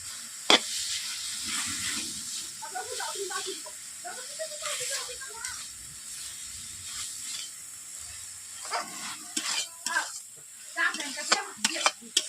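Ground raw peanut paste is stirred into bottle gourd cooking in a pan, making soft scraping and light sizzling under a voice talking, with sharper spoon knocks near the end.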